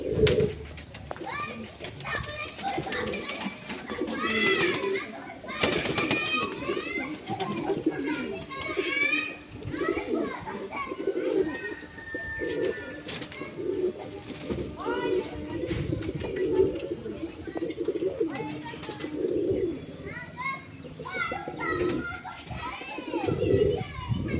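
Fancy pigeons let out of their cages into the open for a bath, with cooing and wing activity amid steady chatter and children's voices close by throughout.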